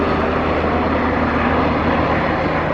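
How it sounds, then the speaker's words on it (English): A Coast Guard helicopter flies low overhead, its engine and rotor making a loud, steady broadband roar that stays constant and uninterrupted throughout. "Coast Guard helicopter, he's flying all over the place"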